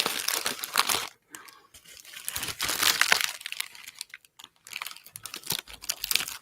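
Scissors snip and slice through a mail package, with crinkly crunching of packaging material in bursts separated by brief pauses, close up with no talk.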